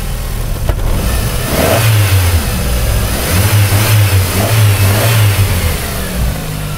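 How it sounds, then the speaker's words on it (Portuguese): A used car's engine idles and then revs up in several throttle blips, the pitch climbing and falling in repeated surges, loud and close with no talking. "Dá uma aceleradinha pra eu ver."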